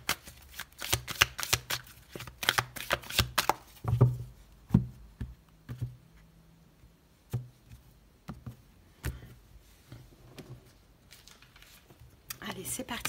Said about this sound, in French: on va poser les 8 cartes